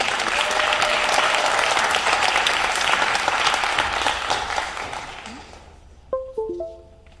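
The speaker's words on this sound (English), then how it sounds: "Let's have a nice round of applause for Michelle Barber as she joins me at the podium" A crowd at a school awards ceremony gives warm, sustained applause to the class salutatorian, steady clapping that fades after about five seconds, followed by a few sharp tonal sounds near the end.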